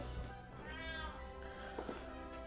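A pet cat named Coconut lets out a long, wavering, drawn-out meow close to the microphone, then a shorter trailing cry, over faint background noise.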